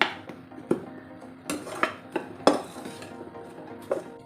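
A spoon scrapes and knocks against a pan as dates are sautéed in ghee over low heat, with intermittent metallic clinks and scrapes at an uneven pace and a faint sizzle underneath.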